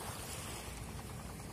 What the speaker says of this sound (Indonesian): ombak juga sudah mulai tinggi, angin juga sudah mulai kencang